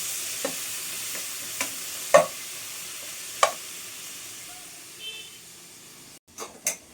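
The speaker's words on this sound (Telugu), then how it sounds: "ఒక 2 మినిట్స్ వేయించుకోవాలి." Coriander frying with cumin and cashews in a pan, a soft low sizzle broken by a few sharp spatula knocks and scrapes, close and fairly quiet, with a couple of clatters near the end.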